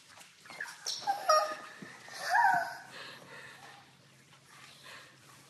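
A gray French bulldog named Cash gives a few short whimpers and whines, close and fairly soft, with quiet breathy snorts in between and faint room noise underneath.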